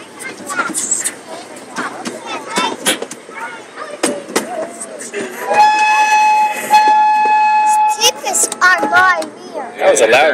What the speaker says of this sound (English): That was a loud whistle.